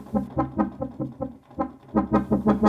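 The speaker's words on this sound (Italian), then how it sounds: "È un wavetable. Un brass che suona così." Brass-like wavetable synth preset called Matrix Horn in Ableton Live plays a bouncy run of short, punchy stabs in an uneven rhythm, loud and close, with no talk over it.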